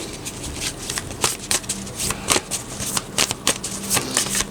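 Animal Oracle cards being shuffled by hand, a rapid run of crisp riffling flicks and soft slaps close up, uneven in rhythm, with no talking.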